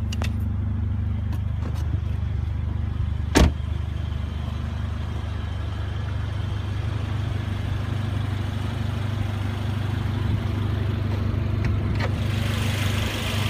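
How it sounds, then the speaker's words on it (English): A 2016 Mercedes-Benz CLA45 AMG's 2-liter turbocharged inline-4 with direct injection idles steadily with a low, even hum and no voices, a brief click sounding partway through. "Under the hood is a 2-liter turbocharged AMG inline 4-cylinder engine with direct fuel injection"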